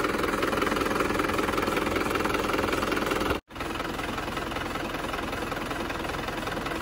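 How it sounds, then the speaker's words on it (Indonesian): An overhauled engine runs steadily at close range, a dense, even mechanical drone with knocking texture, broken by one brief dropout midway before resuming unchanged. "Ini lur suara mesinnya."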